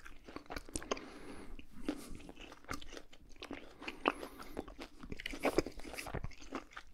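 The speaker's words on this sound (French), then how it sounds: "Prenez le temps de mâcher." Someone chewing a piece of luxury butcher's meat with a dry surface: steady close-up crunching and moist biting, continuous and intimate, with no talking.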